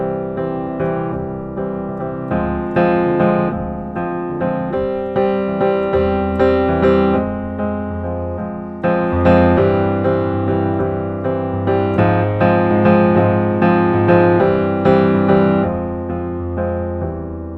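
Piano plays full chords in a syncopated, clave-like pattern over changing bass notes, with rhythmic accented hits repeating steadily, solo with no speech.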